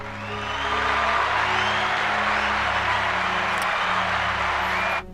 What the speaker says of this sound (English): I want to give a round of applause to Tyler Smith